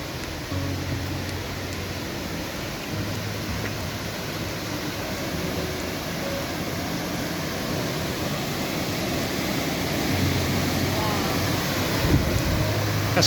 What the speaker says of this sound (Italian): Cascata Gadini, eccola qua.